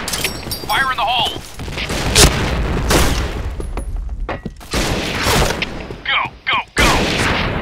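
Grenade blasts and bursts of gunfire in the shooter game Point Blank, with loud booming impacts and sharp shot cracks in an uneven sequence, mixed with shouted voices and game callouts.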